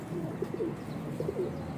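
Pigeons cooing in a few soft, repeated phrases near at hand, faint over low background noise.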